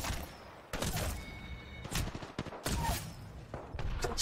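Repeated sharp rifle gunshots, including a Triple Take, crack in bursts over a busy, noisy Apex Legends soundscape, with loud blasts scattered across the moment.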